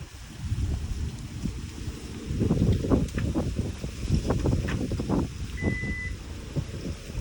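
A Maruti Eeco van in reverse gear gives off repeated electronic reversing beeps over a low idling engine rumble and outdoor wind noise.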